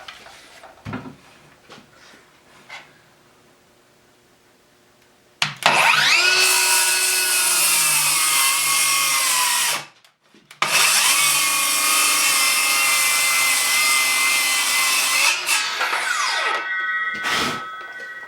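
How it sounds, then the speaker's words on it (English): A Ryobi brushless cordless saw cuts through wood in two loud, sustained bursts with a short pause between them, then spins down, after a few faint knocks. "So same battery in the brushless saw."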